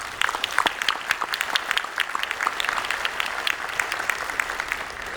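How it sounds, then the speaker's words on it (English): Audience at a conference opening plenary breaks into steady applause, dense overlapping claps sustained throughout at moderate loudness with no speech. "So how about a round of applause?"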